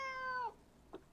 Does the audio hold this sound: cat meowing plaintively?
yes